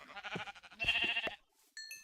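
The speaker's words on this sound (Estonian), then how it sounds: "Kas ma tõesti lähen jahile, otsin lambaid kirkaga või?" Sheep in Minecraft bleat in a few short, fairly loud wavering calls, followed by a brief pause and a small high chime, with no voices present.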